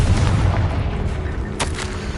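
A fiery Confringo blast spell going off in a Harry Potter video game, a deep rumbling boom with a sharp burst near the end, loud and close with no talking.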